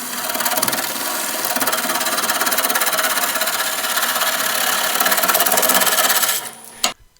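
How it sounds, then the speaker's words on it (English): A skew chisel cuts a wooden workpiece spinning on a wood lathe, giving a loud, continuous rasping hiss over the motor's hum that stops abruptly near the end, with no talk. "So I'm going to finish this to final diameter on the top here with the skew."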